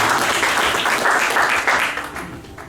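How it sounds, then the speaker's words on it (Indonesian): A church congregation at a worship service claps in praise, loud and close, with a pulsing, slightly rhythmic texture that eases off toward the end, and no speech. "Tepuk tangan buat Tuhan kita."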